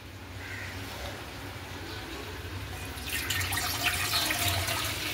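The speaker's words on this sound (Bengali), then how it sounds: "এক মগ জল দিয়ে দিলাম, এটা গরম হোক মাংসের জন্য" Water from a mug is poured into a bowl set on to heat for cooking meat, heard as a steady splashing rush that grows louder and brighter partway through, with no talking.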